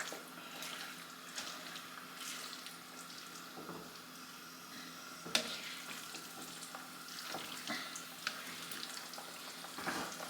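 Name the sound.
cabbage sweating and sizzling in a pan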